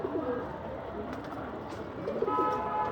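Racing pigeons coo in low, soft, repeated murmurs close by over a steady background hiss, with no talking.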